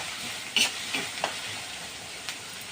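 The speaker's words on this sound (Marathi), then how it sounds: "असं कांदा जळता कामा नये, व्यवस्थित तेलात परतून घ्यायचा कांदा." Chopped onion sautéing in oil in a pan, a faint steady sizzle broken by a few light stirring scrapes.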